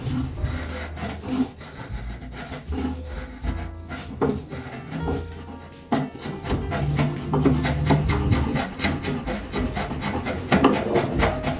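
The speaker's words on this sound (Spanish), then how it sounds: "Redondeado del extremo de la pata, podemos usar un cepillo o en este caso usaremos un desbastador con empuñaduras." The end of a wooden table leg is rounded with a two-handled shaver, giving a continuous run of close, rasping, scraping strokes on the wood with no talking.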